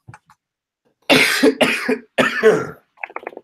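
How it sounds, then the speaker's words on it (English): Three harsh, close coughs in quick succession, loud and chesty, followed by a softer rasp. "this cough is killing me"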